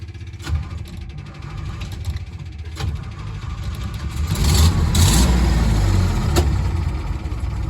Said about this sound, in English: There's the cold backfire I was talking about.